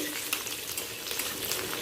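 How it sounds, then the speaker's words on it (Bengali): Sago papad frying in white oil in a wok over a medium-high gas flame, a steady close crackling sizzle that runs the whole time without a pause. "কড়াতে সাদা তেল দিয়ে গ্যাসটাকে অন করে দিয়েছি চাটনির সাথে পাঁপড় না হলেই নয় আমি সাবুর পাপড় ভেজে নিচ্ছি"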